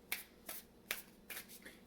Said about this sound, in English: So you will want to make sure that these are thoroughly shuffled.